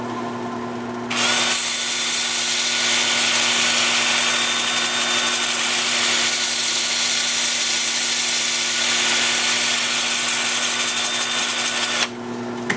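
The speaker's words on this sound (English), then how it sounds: "I'm going to be sanding with my 2-inch disc starting at 80 grit" A power drill with a 2-inch 80-grit sanding disc whirs loudly against a wood-turned bowl for about eleven seconds, a harsh steady grinding that starts and stops abruptly.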